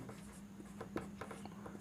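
A pen scratches across paper during a Class 9 maths lesson on cylinders, making faint, close, short strokes in an irregular rhythm over a steady low hum.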